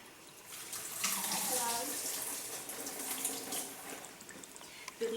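Water from boiled basmati rice being strained in a kitchen, a steady wash of pouring and splashing liquid that rises after a moment and runs on continuously, moderately close.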